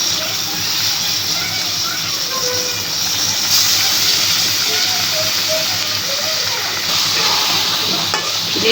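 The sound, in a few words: hilsa fish frying in spice masala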